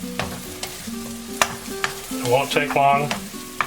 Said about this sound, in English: I'm just going to kind of keep my eggs separate for a bit while I get them cooked up.